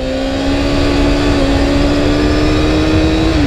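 Kawasaki ZXR250 motorcycle engine with carburettor trouble running and revving close up, a steady loud engine drone with sustained tones that rise slightly and dip near the end, no talking.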